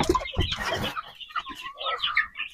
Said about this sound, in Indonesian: ini ayam Jawa yang saya pelihara mulai dari setelah menetas